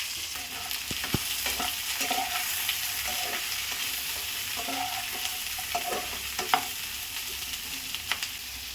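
Half a kilo of large-cut onions frying in hot oil in a pan, a steady close sizzle with occasional clinks and scrapes of a stirring utensil.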